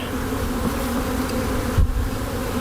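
Honey bees buzzing around a ten-frame Langstroth hive during installation of a nuc, a steady close drone with a brief low thump near the end.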